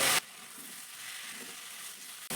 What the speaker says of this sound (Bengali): টমেটোটা কুঞ্জির সঙ্গে ভালো করে মিশিয়ে ভেজে নিতে হবে